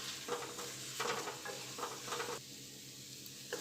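Spinach leaves sauté in a hot pan for a Surat-style cashew garlic curry, sizzling steadily while a spoon stirs in several scraping bursts, close and clear with no talk.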